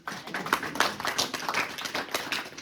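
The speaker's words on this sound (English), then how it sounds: "You may applaud for the" A short burst of scattered clapping from a small audience at a candidates forum, irregular hand claps lasting a few seconds, fairly close and moderately loud.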